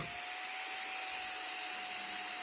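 A replacement cooling fan in a Kulon 820 battery charger (2021 version) spins at a steady speed, giving a continuous whirring hum with a thin constant whine, close and alone without talk.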